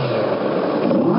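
A Kawasaki Versys 650 motorcycle engine runs and revs close by, a steady, dense throaty drone that holds for the whole moment with no voices.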